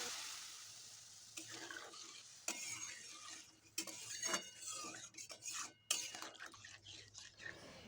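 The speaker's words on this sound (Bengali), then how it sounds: "এখন আমি অ্যাড করে দিচ্ছি গরম জল।" Hot water poured into a pan of potol and potato frying in masala, with a loud hiss and sputter followed by bursts of sizzling and stirring scrapes, close and busy.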